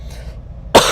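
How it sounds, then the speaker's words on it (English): A single sharp, loud cough from a man with a lingering cough bursts out near the end after a quiet moment, close to the microphone. "got this lingering cough still"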